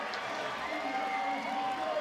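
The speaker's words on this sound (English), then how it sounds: "The crowd starts to go wild here in the background" A distant crowd roars and cheers steadily around the Place du Mont Blanc during a lead semi-final climbing competition in Chamonix, a diffuse, sustained wash of voices with no single clear speaker.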